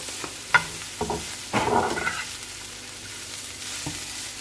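Chicken spring roll filling is stirred in a frying pan, with a soft ongoing sizzle under several clanks and a longer scraping burst as the spatula moves through the mixture.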